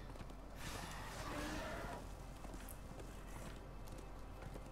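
Horse hoofbeats in Darksiders 2, a soft continuous patter of steps under a steady background hum, with a brief breathy swell early on.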